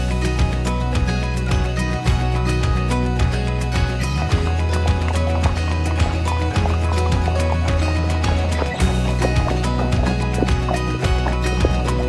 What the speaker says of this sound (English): we enjoyed a 1-hour guided horseback ride around the island too, thanks to Cindy's riding stable.